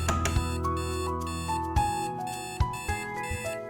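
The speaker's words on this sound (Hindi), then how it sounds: "अलार्म बज रहा है।" An alarm clock rings on and on in a bedroom in the morning with a steady electronic melody of repeating tones. It is clear and fairly loud, with a few soft knocks underneath and no talking.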